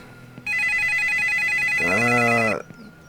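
A telephone rings inside the farming game Ranch Simulator, a loud electronic ring that runs steadily for about two seconds, then stops abruptly into near silence.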